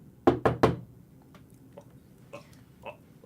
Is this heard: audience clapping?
no